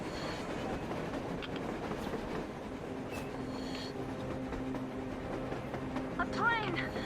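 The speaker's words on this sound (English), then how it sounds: "A damn train on the surface!" A train on the surface approaching in the video game Metro Exodus, a steady rumble with rail clatter and a brief metallic squeal near the end, heard amid ambient game sound with speech nearby.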